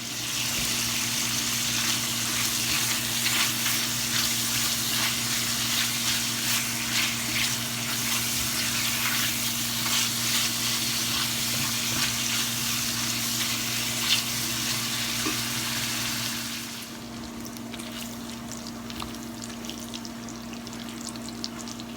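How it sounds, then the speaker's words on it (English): Bacon lardons render their fat in a hot pan, giving a steady, dense crackling sizzle that runs unbroken at close range and then drops to a quieter, softer fry near the end. "what we're going to do is just render the fat out of the bacon, and we're going to allow it to kind of crisp up"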